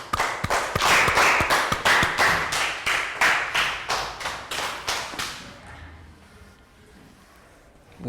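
A Year 3 maths class claps for a pupil, a loud run of distinct, rhythmic handclaps that fades out after about five seconds into near quiet.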